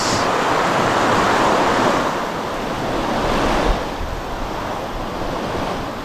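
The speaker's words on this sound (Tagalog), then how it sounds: "Ang lakas ng agos ay, oh. Grabe." Strong river current rushing in a steady, loud broadband roar at close range, with no voices over it, heard while fishing.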